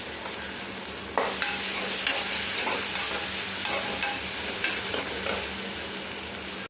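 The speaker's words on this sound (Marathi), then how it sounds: "कांदा चांगला परतून घ्यायचा थोडं टोमॅटो टाकले चांगलं परतून घ्यायचं हळद टाकायची" Onion and tomato with curry leaves and turmeric sauté in a pan with a loud, constant sizzle close by, while stirring adds scattered scraping taps throughout and no one speaks.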